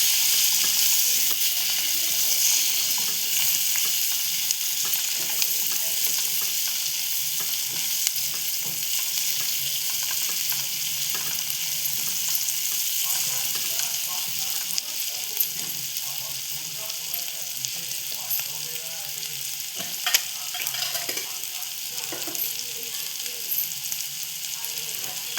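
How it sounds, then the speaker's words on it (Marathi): Onion and tomato sizzle and fry steadily in a hot pan for a prawn and drumstick curry, with a continuous close hiss and occasional stirring scrapes throughout. "इथे तर आपण कांदा टोमॅटो परतवून घेतलेला आहे"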